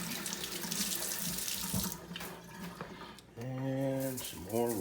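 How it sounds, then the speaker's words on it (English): Hands rinsed under a running kitchen tap, steady splashing water that drops off briefly and then resumes loudly, with talking mixed in. "Another hand rinse."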